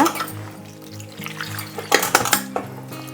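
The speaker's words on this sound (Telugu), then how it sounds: "ఇలా గట్టిగా ఇలా నలుపుతూ కడుక్కోవాలన్నమాట." Chopped banana flower is rubbed and washed in a metal vessel of water, making close sloshing and squelching with clinks of the pot, growing louder and busier toward the end.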